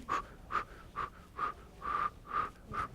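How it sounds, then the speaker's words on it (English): A person breathes out in a steady series of about seven short, forceful, slightly wheezy exhalations, roughly two per second, close and with no talking. "I'm breathing out the pain"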